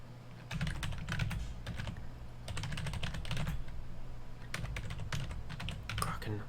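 Rapid bursts of typing on a computer keyboard, clattering keystrokes in irregular runs with short pauses, close and fairly loud, over a low steady hum.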